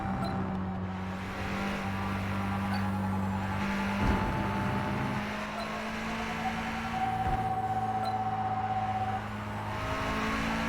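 A race car in Forza Motorsport hums steadily, its engine tone dropping under braking and rising again on the throttle, with steady drone and tire noise throughout.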